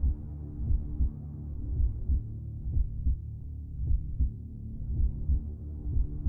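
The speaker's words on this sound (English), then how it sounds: "Can you hear the heartbeat?" A heartbeat sound effect plays in the racing video game Night Runners, a steady run of low, throbbing thumps over a constant hum.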